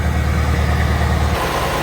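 A lowered twelve-wheel racing team truck idles through its exhaust, giving a steady low engine rumble up close that shifts slightly in tone partway through.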